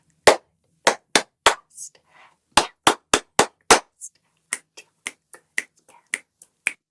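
Crisp finger snaps and claps in a steady counted rhythm during a music-class body-percussion game, close and sharp with brief pauses between groups.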